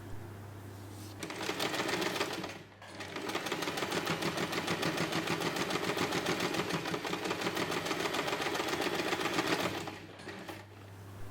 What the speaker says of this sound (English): Make sure you're only sewing through the top pocket layer.